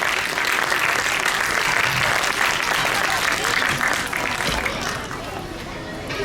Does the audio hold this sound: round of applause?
yes